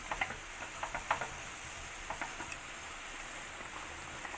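Onions sizzle steadily in a hot pan for a chicken curry, a continuous frying hiss with a few sharper crackles and pops near the start, close and alone with no talking.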